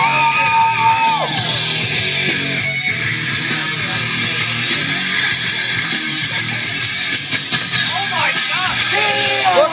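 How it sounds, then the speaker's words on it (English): Loud crowd cheering, yelling and whooping at a live wrestling event, a sustained roar of many voices with individual shouts rising above it throughout. "Maybe we can hear some noise, crowd."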